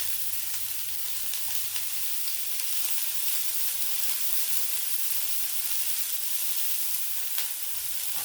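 Onions sizzle in hot oil with a steady, dense frying hiss that holds at an even loudness throughout, close and uninterrupted, with no voices.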